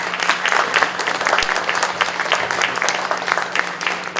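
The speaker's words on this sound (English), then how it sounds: "Give him a big round of applause" A room full of people gives a steady round of applause at a press forum in Edmonton, dense continuous clapping at moderate loudness with no voices over it.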